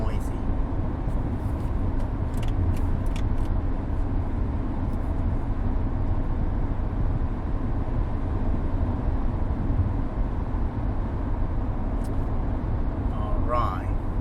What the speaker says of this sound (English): How is the engine noise or road noise?